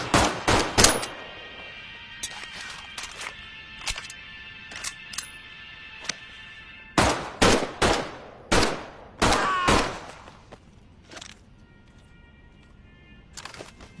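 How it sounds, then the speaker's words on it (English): P08 pistol gunfire in the Medal of Honor VR 2 video game: a quick volley of sharp shots, then scattered single shots and a tight burst of rapid reports, with faint mechanical clicks between them. "As with other German pistols, the P08 has a larger magazine, but is slightly less accurate."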